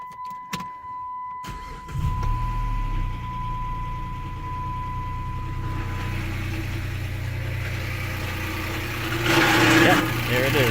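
A Chrysler 300 engine with its belt removed starts about two seconds in and runs steadily at idle, carrying a timing chain noise. The running sound stays close and continuous and swells slightly near the end.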